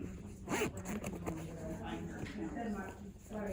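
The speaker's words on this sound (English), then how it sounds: "So when you hold the tab, you can zip your bag." A small zipper on a handmade mini charm bag is pulled along by its tab, producing repeated quick rasping zips close up, mixed with a person talking throughout.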